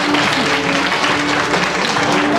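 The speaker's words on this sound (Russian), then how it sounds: "не стесняйтесь, помогайте аплодисментами" Audience applause at a poetry ball in Riga, a steady dense wash of clapping filling the short stretch with no pauses.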